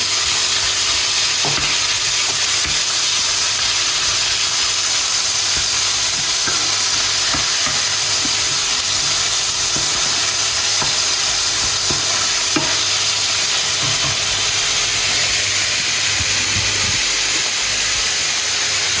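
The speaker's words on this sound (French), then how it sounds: "J'en ai mis un petit peu dans cette poêle-là pour faire cuire la viande" Meat frying in a pan for moussaka with a loud, steady sizzle and hiss that never lets up, broken by occasional small pops and crackles, without any talking.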